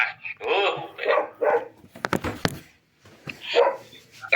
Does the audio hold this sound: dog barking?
yes